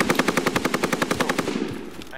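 Video-game automatic gunfire: a rapid, evenly spaced burst of about fifteen loud shots that stops abruptly, leaving a short tail of room noise.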